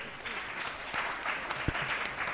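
Audience applause at a maths interschool quiz final, clapping steadily for a team just announced in fourth place, a dense and fairly even wash of many hands at moderate distance.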